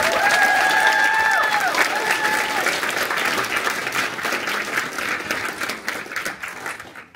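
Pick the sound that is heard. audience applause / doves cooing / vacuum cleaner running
audience applause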